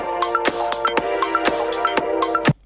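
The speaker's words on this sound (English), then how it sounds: "Probably don't want any drunken countless dance electronic music." Electronic dance music pulses with a driving beat, sharp percussive hits and short synth blips repeating in a quick, loud pattern before cutting off.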